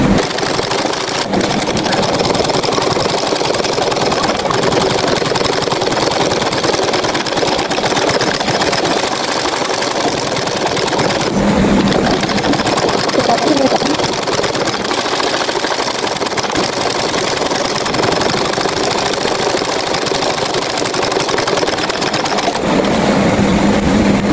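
A sewing machine runs in a long, steady whir while topstitching a seam on salwar pants, a continuous motor hum with faint shifts in tone and brief pauses, close up with no talking.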